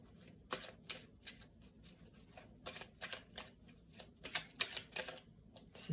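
A small fairy oracle deck is shuffled and cards are drawn, giving quick bursts of papery riffling and flicking, close and crisp, with brief pauses between bursts.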